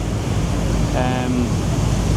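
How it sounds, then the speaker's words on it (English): Steady wind and sea noise roars on the deck of a brand-new ferry crossing between Lanzarote and Fuerteventura on a windy day, a constant broadband rush with a faint tonal whine briefly rising through it. "today it's really, really nice, and it is quite windy"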